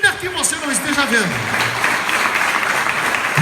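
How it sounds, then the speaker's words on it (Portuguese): Church congregation applauding after a preacher's voice trails off, a dense steady wash of clapping that fills the space and holds level to the end. "Você pode aplaudir o Senhor"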